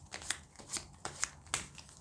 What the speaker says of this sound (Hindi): पहले हम थोड़ा शफल कर लेते हैं कार्ड्स को